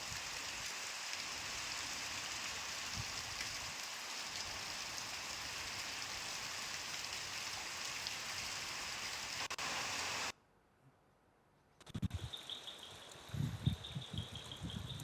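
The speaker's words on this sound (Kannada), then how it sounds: "ಸ್ವಲ್ಪ ಲೇಟ್ ಆದರೂ ಉತ್ತಮ ಮಳೆ ಆಗ್ತಾ ಇದೆ" Heavy rain falls as a steady, even hiss for about ten seconds, then cuts off abruptly to near silence before other thumps and noises take over.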